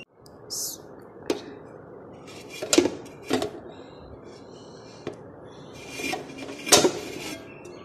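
Burger pizza buns set one by one into a large pot preheated for 15 minutes, giving soft, scattered clunks and light scrapes at intervals over a quiet room background.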